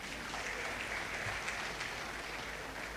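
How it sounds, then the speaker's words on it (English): Steady applause from a crowd, even and sustained throughout, with no voices standing out. "So let's give him a round of applause too."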